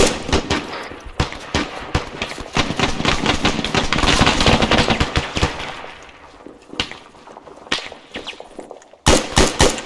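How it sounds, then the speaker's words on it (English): Video game gunfire in Arma 3 as a squad opens up together on command: a dense burst of rapid overlapping shots and bursts, loud and close, thinning into scattered cracks before a final flurry, with no speech. "If you got your shots, line them up. 3, 2, 1, fire."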